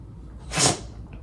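One short, sharp sneeze bursts out close to the microphone in an otherwise quiet room.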